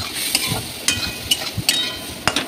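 Ground spices stirred with a splash of water in a pan for a fish curry with boal fish, giving a series of short scraping stirs and light sizzles, moderately loud, with no one talking.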